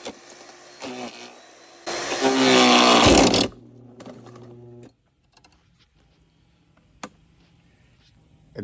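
A Harbor Freight chipper-shredder, two years old, roars loudly for about a second and a half as branches go through, then drops back to a quieter idle hum with scattered clunks and faint knocks.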